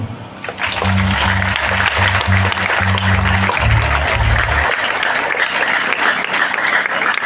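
Loud audience applause at a school anniversary Mass, sustained and even throughout, with low musical tones sounding beneath the clapping for the first few seconds.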